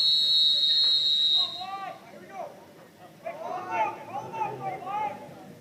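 A referee's whistle at a high school football game between Colfax and Whitehall sounds a long steady blast at the start, followed by a commentator talking over crowd noise.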